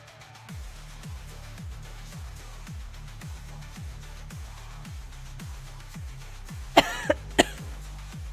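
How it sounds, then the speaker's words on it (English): A person gives two short, sharp dry coughs near the end, close and distinct over a steady rhythmic background of game music. "Wish I had a productive cough."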